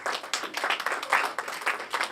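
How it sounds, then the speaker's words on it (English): Audience clapping at a Muslim secondary school event in Kawempe, Uganda, a moderately loud burst of scattered, uneven handclaps with no talking over it. "Please give them a round of applause."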